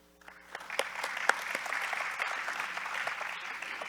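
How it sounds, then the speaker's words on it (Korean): Audience applause follows welcome and congratulatory speeches at the opening ceremony of an international forum conference. After a near-silent start, scattered claps quickly swell into a steady, moderately loud ovation that carries on to the end. "네, 환영사와 축사를 해주신 모든 분들께 다시 한번 큰 박수 부탁드리겠습니다"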